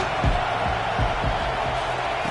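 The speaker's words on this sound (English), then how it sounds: "Decibels rising as the crowd gets behind this defense on 3rd down." Crowd noise from a football stadium in an NCAA college football video game, a steady broad roar on a third-down defensive stand, with a few low thumps rising through it.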